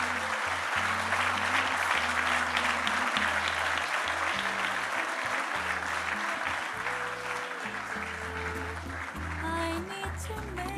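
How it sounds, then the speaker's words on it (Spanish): Sustained, loud applause from an audience at an architecture awards ceremony for the year's best building, honoring the winners; dense clapping continues steadily throughout with faint background music. "un aplauso gigante a nuestros ganadores."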